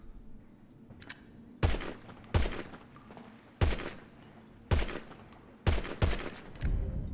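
Gunfire in GTA 5 aimed at an alien egg on Mount Chiliad: seven sharp, loud shots spaced about a second apart, each with a short decaying tail, standing almost alone with little else around them.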